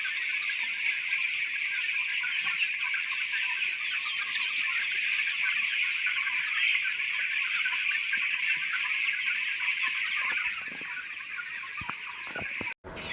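A constant, dense chorus of many hens and chicks fills the air, a steady chattering din that continues without pause.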